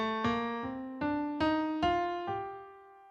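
A G natural minor scale played note by note, about seven evenly spaced ascending tones, each struck cleanly and decaying, soft and unaccompanied.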